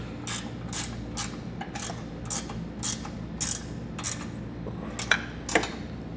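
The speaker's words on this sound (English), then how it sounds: "we'll tighten and torque our hardware to the specifications" A ratchet wrench tightens and torques base plate hardware under a vehicle, giving a regular series of close, crisp clicking bursts, about eight of them, with a quiet room background.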